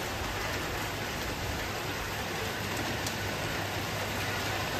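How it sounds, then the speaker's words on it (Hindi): Rain falls steadily outside during a Delhi downpour, an even, unbroken hiss with no talking. "बाहर बारिश हो रही है"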